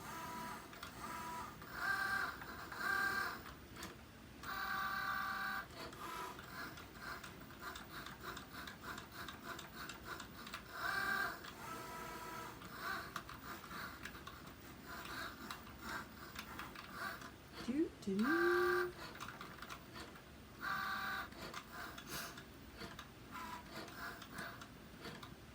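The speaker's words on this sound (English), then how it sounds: "I love to watch the Cricut cut." A Cricut cutting machine slices a shadow layer from Whisper White cardstock, giving a soft, steady mechanical whir broken by periodic brief carriage bursts, fairly quiet and close, with no talking.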